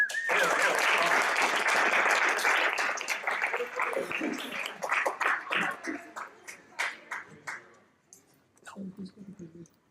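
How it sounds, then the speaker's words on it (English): A small group bursts into dense applause that gradually thins into scattered individual claps and fades out, with a few voices near the end. "we got to give you a round of applause"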